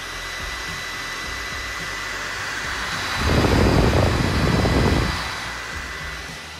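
PlayStation 4 Pro console running with a loud cooling fan, a steady broadband whoosh that swells noticeably louder for a couple of seconds in the middle before settling back.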